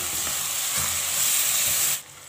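Spices and asafoetida crackle and sizzle in hot oil for a dal tempering, a bright steady hiss with small pops and a stirring scrape, cutting off abruptly at the end.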